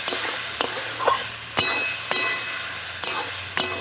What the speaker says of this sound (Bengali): এবারে ভেজে রাখা ঝিঙে, আলু আর গুগলি একসঙ্গে আছে দিয়ে দেবো। দিয়ে ভালো করে সব একসঙ্গে কষিয়ে নেব।